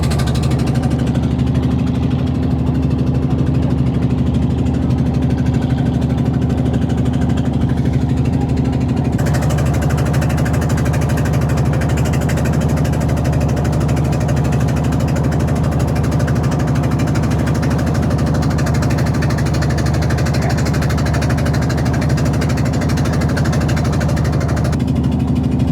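A trawler's engine idles at a riverside port, a steady, loud low rumble with constant vibration that runs unbroken for the whole stretch, with no voices over it.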